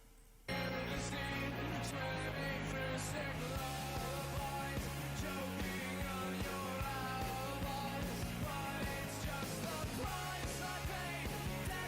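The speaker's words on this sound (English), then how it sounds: "So Dirk is listening to a drum track" A drum track plays steadily after a brief quiet start, a dense, continuous full mix with driving percussion throughout, heard at moderate level with no talking over it.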